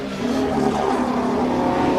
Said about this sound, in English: That's the sound of Ollie Behrman as well